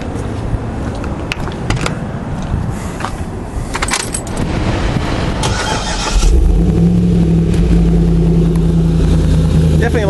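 An LS3 V8 engine cranks and fires about midway through, then settles into a loud, close, lumpy idle with a deep cam rumble that holds steady to the end.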